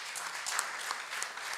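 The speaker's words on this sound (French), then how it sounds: "je vais devoir vous inviter à applaudir nos présentateurs" A brief burst of audience applause for presenters at a government programme session, moderate and slightly distant, with scattered claps merging into a steady patter.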